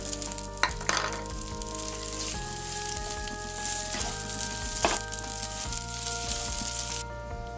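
Cooked rice goes into a pan of frying egg and masala, giving a steady loud sizzle broken by several scraping stirs of a utensil against the pan, with no talking.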